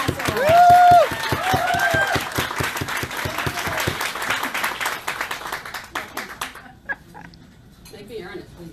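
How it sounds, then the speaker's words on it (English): Audience applause welcoming a keynote speaker, steady clapping that fades out after several seconds, with a brief whistle-like cry over the start and scattered voices as it dies down. "Please help me present to you a big round of applause, our keynote speaker, Jeannette Collazo."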